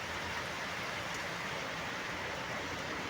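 Rain pours steadily at night outdoors during an air-conditioner installation, a dense even hiss with no voices.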